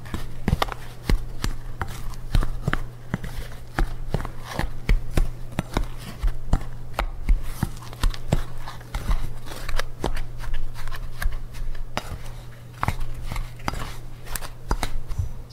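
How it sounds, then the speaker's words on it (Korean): Dalgona dough mixed lightly with a scraper, close repeated sharp taps and scrapes against the bowl in an uneven rhythm, over a steady low hum. "스크래퍼로 가볍게 섞어주세요."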